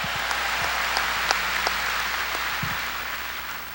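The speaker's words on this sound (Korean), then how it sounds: "박수치며 하나님께 영광 돌리고" A 1992 Sunday worship congregation clapping, a steady moderate wash of many hands in a church hall, with a few sharper individual claps and faint low sounds underneath.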